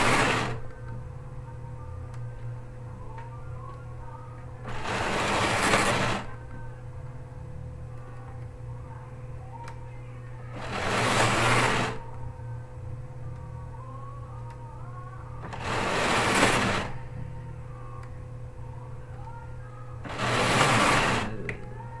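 A knitting machine works on a seamless hat, with a steady mechanical hum broken by loud carriage passes that repeat about every five seconds.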